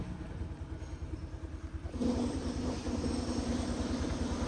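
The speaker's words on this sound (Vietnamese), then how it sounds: "Rồi nổ máy, test máy cho mọi người xem nghe lần nữa nha." Honda Wave 125i motorcycle from 2023 starting up and settling into a steady idle, its rhythmic engine pulse close and continuous throughout, getting louder at the start.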